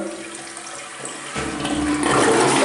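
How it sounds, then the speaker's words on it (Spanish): A dual-flush toilet in an apartment bathroom flushes nearby, starting with a low hiss and swelling into a loud rushing surge of water, with no talking. "tenemos un sanitario de doble descarga con su tapa y bizcocho en buen estado"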